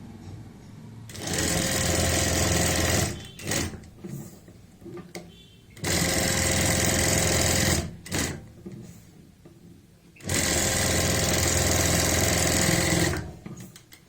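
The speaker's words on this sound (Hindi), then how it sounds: "हमने यहाँ से शुरू सिलाई की थी और दूसरी साइड में हमने सिलाई को पूरा कर लिया है" Three long bursts of fast sewing machine stitching along a neckline seam, loud and close, separated by quieter pauses with light handling noises.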